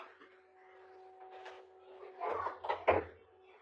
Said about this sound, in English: I might have to close my door.